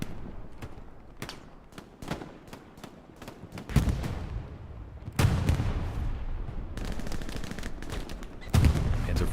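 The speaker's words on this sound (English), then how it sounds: "when you hear those MG42 rounds zip over your head" Bursts of MG42 machine gun fire in the WWII game Hell Let Loose on Utah Beach, sharp repeated cracks and rattling volleys layered over constant battlefield rumble, with heavier thumps near the middle and end.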